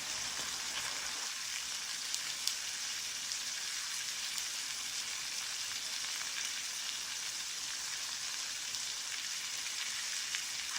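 Steaks sizzle and fry in a hot skillet at about 400 degrees while a pat of butter spread melts over them, giving a steady, even crackle with no voices.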